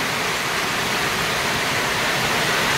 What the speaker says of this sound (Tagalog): Ang lakas ng ulan sa labas